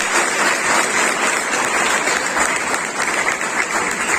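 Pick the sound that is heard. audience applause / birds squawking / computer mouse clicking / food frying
audience applause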